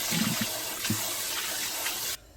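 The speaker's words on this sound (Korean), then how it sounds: "깨끗한 물에 한 번 더 씻어줄게요." Soaked japchae glass noodles are rinsed in clean water, a steady close splash of running water at a sink that cuts off abruptly near the end.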